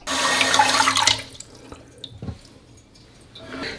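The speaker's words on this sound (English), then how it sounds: "cup your hand over that as you gently turn the water back on" Water rushes loudly from a toilet fill valve as the supply is turned back on, a strong hiss for about a second that quickly fades to faint drips and gurgles in a bathroom.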